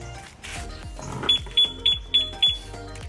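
A series of five sharp electronic warning beeps from a two-way alarm system, evenly spaced and fairly loud, sounding over a low background hum.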